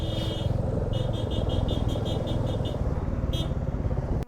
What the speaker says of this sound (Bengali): পরপর পাঁচটা বাইক যাচ্ছি